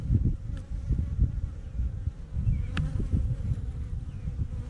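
A dense swarm of honeybees drones steadily and close during an open hive check with newly emerging bees, a continuous low buzz with occasional brighter individual bees passing nearer.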